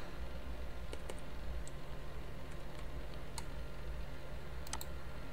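Someone types a verification code on a computer keyboard, sparse light clicks and taps scattered over a faint steady hum, quiet and close.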